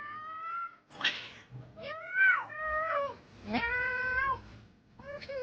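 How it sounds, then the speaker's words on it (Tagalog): A cat meowing several times in drawn-out, wavering cries, close and fairly clear against a quiet background. "Meow."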